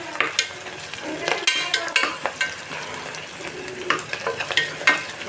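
Ground green chili paste frying with onion in a pan for khichdi, stirred with repeated metallic scrapes and clinks over a constant sizzle, close and fairly loud with no talking.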